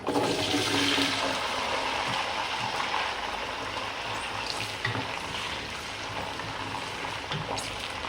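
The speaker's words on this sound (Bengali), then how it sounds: "এখন আমি দিয়ে দেবো রসুন।" Garlic sizzles in hot oil while being fried for a beef pickle, a loud, dense crackling hiss that runs continuously with occasional stirring scrapes and no talking.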